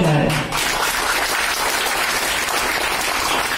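Loud, sustained applause from a street-theatre audience at an outdoor nukkad natak performance, dense clapping filling the whole stretch with a brief dip near the start.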